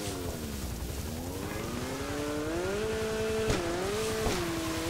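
A motorcycle in the video game Grand Theft Auto V revs and shifts through rising engine pitch, loud and close, with the whine climbing and dropping between gear changes.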